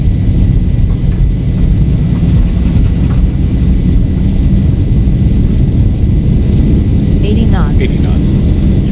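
Boeing 737 engines at takeoff thrust in a flight simulator make a loud, constant roaring rumble that stays steady throughout, with faint higher whines showing near the end.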